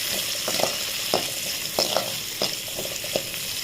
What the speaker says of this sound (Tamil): சிறிதளவு சின்ன வெங்காயம் சேர்த்துக்கணும். நல்லா வதக்கினதுக்கப்புறம்